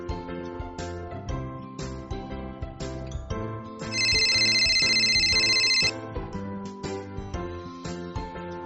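A telephone rings in one continuous burst of about two seconds while dinner is being cooked, loud and bright over steady background music.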